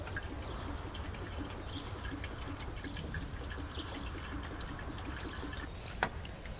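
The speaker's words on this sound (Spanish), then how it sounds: "Ahora llenamos el sistema con agua destilada." Distilled water is poured into the cooling system of a BMW 530d E39, a soft continuous trickle and gurgle, quiet and steady, ending with a small knock.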